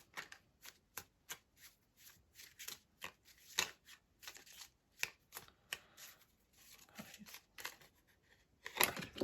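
Tarot cards are shuffled and drawn close up in a quiet room, a long run of crisp riffling snaps and soft slides in irregular bursts, faint but clear, with no one talking.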